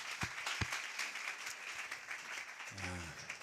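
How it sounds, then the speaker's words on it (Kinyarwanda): Quiet, scattered applause comes from a church congregation during a gospel service. A few sharp claps stand out over a soft, distant patter, followed by a brief low hum near the end. "Dushobora gukomera Imana amashyi twese."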